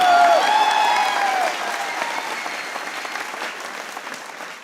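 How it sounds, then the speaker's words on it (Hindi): Audience clapping at a comedy show, loud and sustained, starting near with a brief whistle-like tone at first and gradually thinning out over several seconds. "बजा सकते हो तालियां, बजा लो यार"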